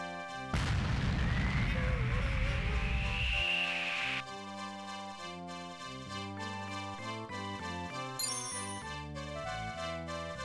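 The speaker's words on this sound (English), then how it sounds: "That appears to be a cannon." A cannon blasts in Tingle's Balloon Trip video game, one loud booming burst followed by a fading rumble, then synthesized game music and chiming effects play on.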